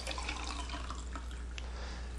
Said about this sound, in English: Then you add 12 ounces of water,